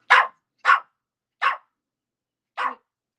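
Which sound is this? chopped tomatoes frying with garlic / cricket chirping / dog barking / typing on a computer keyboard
dog barking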